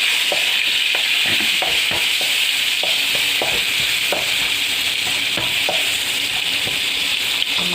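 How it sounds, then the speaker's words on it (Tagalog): Tomatoes go into a simmering pot of chicken sinigang. A spoon stirs and scrapes in repeated bursts over a constant close sizzle and bubbling, with no talk. "At ilalagay na natin ang ating kamatis."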